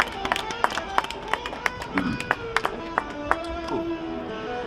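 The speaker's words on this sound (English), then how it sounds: "can we clap it up for that priest and prophet real quick?" Worshippers at a church service clap in scattered, sharp hand claps spread over a few seconds, with a voice and some crowd noise underneath.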